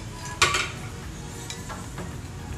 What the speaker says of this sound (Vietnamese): mình rưới lên trên mì rưới một ít lên trên mì vậy nè mình trộn đều cho nó ngấm nó thấm ha